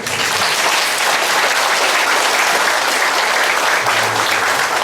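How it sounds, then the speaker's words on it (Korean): Applause from the audience at a company's monthly leaders' meeting, given for the chairperson: loud, dense clapping close by that stays steady throughout a few seconds. "이사장님한테 박수 한번 좀"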